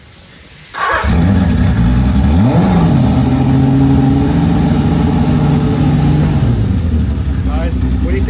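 A Kawasaki 1300 motorcycle engine starts after a short quiet lead-in and then settles into a loud, throaty, close run, with a few swells of revving.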